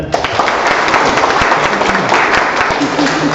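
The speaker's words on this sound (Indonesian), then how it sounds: "Oke, beri tepuk tangan." An audience at a university public lecture on fisheries and marine science claps in a loud, dense burst of applause that continues steadily, with a few sharper individual claps and some faint voices underneath.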